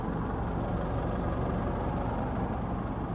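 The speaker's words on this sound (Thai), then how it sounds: "ฟังเสียงเครื่องยนต์นี่" An Isuzu MU-X 4WD diesel engine idles with a steady low rumble, very smooth and unchanging throughout, with no voices.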